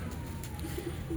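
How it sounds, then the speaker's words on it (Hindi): Misse pigeons kept in a cage coo softly in a few low murmurs against a constant hum of background noise, faint and brief, with no voices. "ये मिस्से कबूतर हम इनको कहते हैं।"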